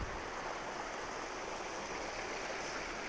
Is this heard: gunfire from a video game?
no